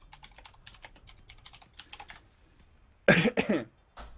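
Rapid clicking on a computer keyboard during a Guild Wars 2 online tournament, close and crisp for about two seconds, then a pause, a short loud cough and one final keystroke.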